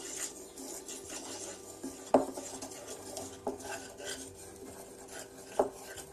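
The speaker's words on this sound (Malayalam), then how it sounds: "ഇതിനെ ഇളക്കി കൊടുക്കുക." A spoon stirs lemon curry with chili powder in a pan, quiet scraping and rubbing punctuated by a few sharp metallic clinks of utensil against the pan.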